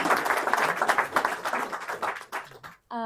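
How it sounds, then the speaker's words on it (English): Audience applause at a public talk on alpine snow and a warming climate, dense clapping from a crowd filling about three seconds before fading out, with a voice starting at the end. "Let's give him another round of applause."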